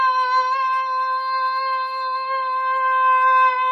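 A steady, tonal whine with strong even harmonics, held without a break at a loud, close level, given as a person vocally imitating a vacuum cleaner; no speech over it.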